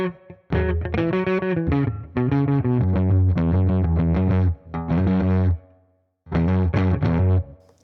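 A cheap electric guitar played through a Neural DSP ambient preset rings out in sustained, shimmering chords and picked notes, loud and close, in three phrases separated by short silences, with no talking.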